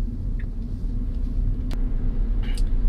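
Tesla Model 3 driving up a road, a steady low tyre-and-road rumble from inside the cabin with faint brief clicks on top, even and continuous throughout.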